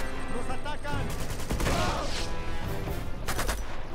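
Bursts of gunfire from a gun in Uncharted 2, rapid loud volleys packed close together in a fast firefight, with other game sounds underneath.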